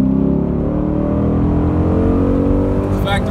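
A Dodge Charger SRT8 fitted with a Pedal Commander throttle controller drones with a steady, loud engine note from inside the car, a continuous low hum with faint voice traces near the end.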